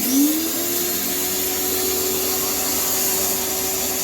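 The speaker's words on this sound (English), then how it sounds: "even after letting go of the trigger, the motor does not stop." A Greenworks 2100 PSI, 13-amp compact electric pressure washer motor whirs loudly and steadily up close, rising to a constant high-pitched whine that keeps running with no pause.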